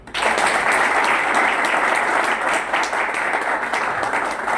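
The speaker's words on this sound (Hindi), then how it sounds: "जोरदार ताली है, जोरदार शोर मचा के" Loud, sustained applause from a large crowd, continuous clapping that fills the whole stretch without letting up.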